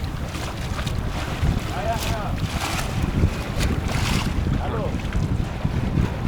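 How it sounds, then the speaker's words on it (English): Steady, loud wind buffets a felucca sailing on the Nile near Aswan, a continuous broadband roar with gusty swells and microphone rumble, and water sloshing beneath it, with no talk. "Tough wind going on."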